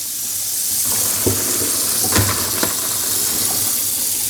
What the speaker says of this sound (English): Okay, run some cold water.